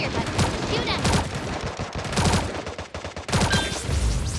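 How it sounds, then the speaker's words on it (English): Gunfire in the mobile shooter Sausage Man: rapid bursts of close, sharp shots crackle in quick succession over several seconds, with brief lulls, loud and dense over game background sound. "Aim and tap the fire button to shoot at them."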